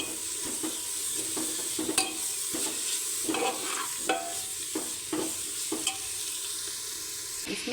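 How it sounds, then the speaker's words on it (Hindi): Tomatoes go into a pan of frying spices for a home-cooked dal and roti meal, bringing a steady close sizzle with repeated stirring clinks and scrapes of a utensil against the pan, without any talk. "अब मैं इसमें डाल देती हूँ टमाटर"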